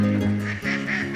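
Several ducks quack in bursts outdoors on a sunny early-spring walk among pine trees, loud and close, overlapping calls repeating through the moment with no talk.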